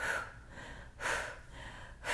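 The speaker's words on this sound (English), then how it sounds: "Exhale, exhale, exhale" Three audible breaths out, about a second apart, come during a Pilates resistance band posture exercise: each is a soft, close breathy rush that swells and fades, with quieter breathing between them and no talk.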